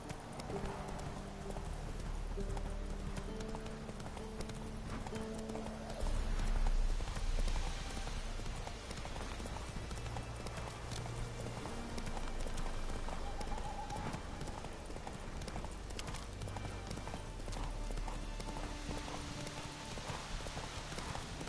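A horse gallops in The Witcher 3, its hooves pounding in a continuous fast clip-clop close by, with game ambience and music underneath.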